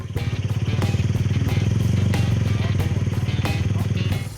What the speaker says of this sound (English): he's going to use only his clutch and he's going to ride all the way around in a circle.